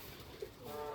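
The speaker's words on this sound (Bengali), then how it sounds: "রাজশাহী গিরিবাজ বোম্বাই অনেক সুন্দরভাবে ডাকাডাকি করে" Rajshahi Giribaz Bombay pigeons give a single short, soft coo that rises briefly over a steady background hiss.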